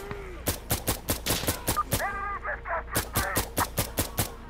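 Gunfire in the video game Insurgency: Sandstorm: a rapid, evenly spaced string of loud sharp shots breaks briefly for a short tonal call-like sound, then resumes at the same quick rhythm.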